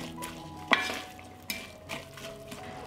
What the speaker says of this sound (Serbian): i sve ću zajedno propržiti dok luk ne omekša.